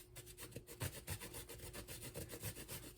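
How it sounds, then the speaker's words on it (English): Chocolate bar rubbed against a grater, shaving curls for a mousse garnish: a steady run of close, raspy scraping strokes in quick rhythm, continuous and fairly quiet with no talk. "if you happen to have a chocolate bar and a grater, you can use that to put chocolate shavings"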